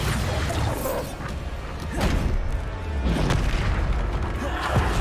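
Bombarda explosion spells in Hogwarts Legacy, game combat with repeated loud booming blasts and thuds landing roughly every second or two over a dense, rumbling background, with brief bursts and crackles between hits.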